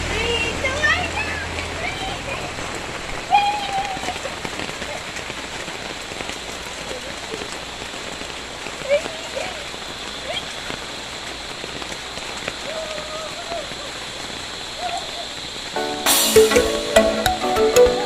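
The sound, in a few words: heavy rain falling outdoors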